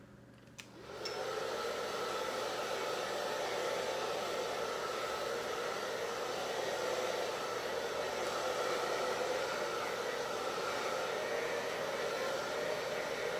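A handheld hair dryer blows steadily on damp hair roots during a wet set, a loud continuous whoosh starting after a brief quieter moment and holding constant throughout.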